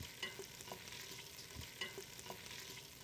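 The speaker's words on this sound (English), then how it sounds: "We're gonna stir this, allow this to cook for about 2 to 3 minutes." Shallots, ginger paste and whole garlic cloves cook in a pot for a chilled corn and green curry soup, a faint, low sizzle with repeated light stirring scrapes at an uneven rhythm.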